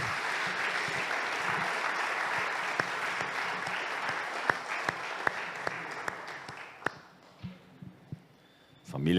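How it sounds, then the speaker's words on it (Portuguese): A church congregation applauds a couple in a long, dense burst of clapping that fills the room, then thins and fades toward the end as a few voices come through. "Vamos dar uma salva de palmas para esse casal lindo."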